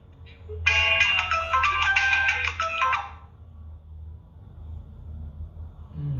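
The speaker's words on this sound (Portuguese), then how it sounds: "Tocou o telefone dele." A phone's ringtone sounds for about two and a half seconds as a bright, warbling melodic ring. Low background hum comes before it and after it.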